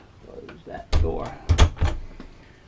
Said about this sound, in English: Close that door back. Close that door.